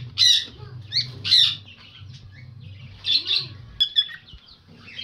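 Lutino cockatiels in a breeding cage give sharp, loud chirps and squawks in short bursts, close by, over a low background hum, with a faint bird fluttering now and then.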